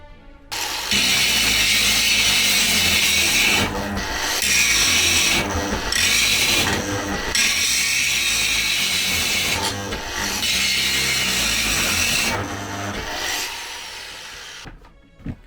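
A Bosch GWS 17-125 angle grinder on its second speed setting grinds loudly up close. The harsh roar is broken by several brief dips as pressure on the workpiece eases and returns, then it winds down at the end.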